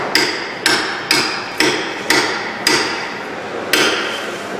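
Valve stem seals being tapped into a Ferrari F12 engine with a seating tool: seven sharp, evenly spaced metallic knocks, close and clear, with no talking.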